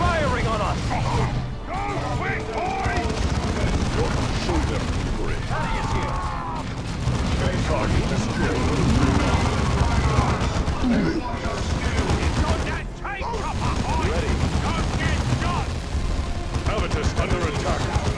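Ork gunfire in the strategy game Dawn of War 2: a continuous battlefield din of rapid shots, mechanical clatter and booms, loud and steady, with voices calling out over the fighting.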